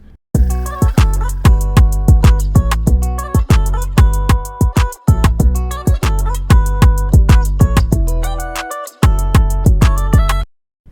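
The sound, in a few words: guitar beat with low frequencies cut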